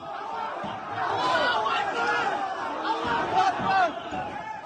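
Crowd of hundreds storming the airport in Makhachkala, Dagestan: a dense mass of shouting and chatter, with surging voices and occasional louder cries, fairly distant and rough.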